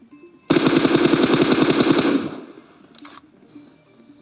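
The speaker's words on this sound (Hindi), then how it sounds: "यहाँ पर फायरिंग होने लगी" A long, loud burst of rapid automatic gunfire in a battle royale video game match, solo against a squad, rattling nonstop for nearly two seconds before cutting off, then faint background sounds.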